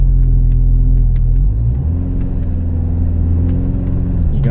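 A 2025 Toyota 4Runner TRD Pro churns through soft beach sand on Padre Island, its engine a loud, close, sustained low rumble that shifts pitch as the gears change.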